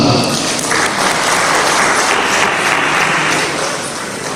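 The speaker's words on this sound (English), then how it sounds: "It is a clap for this man." Conference audience at a Nigerian physical sciences meeting claps for a professor being introduced, a full, steady burst of clapping from many hands, loud and continuous before tapering slightly at the end.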